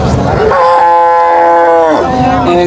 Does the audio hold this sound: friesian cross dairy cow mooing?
yes